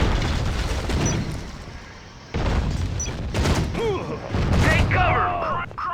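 Gunfire in the real-time strategy game Act of War: loud bursts and booms of shooting, separated by short gaps, mixed with game voices calling out over the combat.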